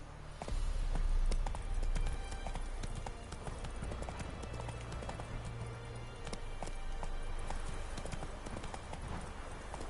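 A horse gallops across open ground in The Witcher video game, its hooves beating a fast, steady clip-clop at close range over constant ambient noise.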